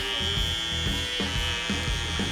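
An electric shaver runs steadily through a haircut for a mid drop fade slick back, its close, loud buzz holding a constant hum with small shifts in pitch as it passes over the hair.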